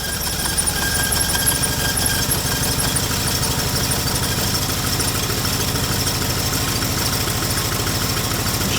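A Fiat Panda 1000 engine idles with the choke pushed fully in, a steady close, slightly rough mechanical rumble that holds even throughout with no voices.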